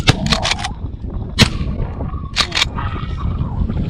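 Shotguns fire at geese during an Iowa goose hunt: several loud, sharp blasts in quick succession, two bursts close together, then a pair more, with the field ambience behind.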